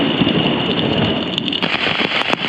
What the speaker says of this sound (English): So it's raining so hard